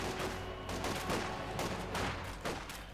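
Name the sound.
mortar fire and gunfire in video game Company of Heroes 2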